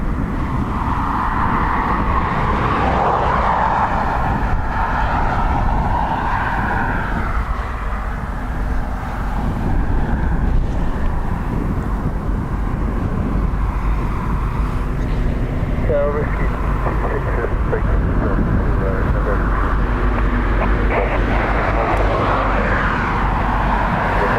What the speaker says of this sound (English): I'll turn the filter off, Tom, for the 787 going by, so we can hear it properly